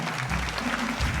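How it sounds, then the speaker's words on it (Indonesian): An audience claps together in a short, steady burst of applause at a team quiz competition game show, with a faint murmur of crowd beneath. "Tepuk tangan lu semuanya."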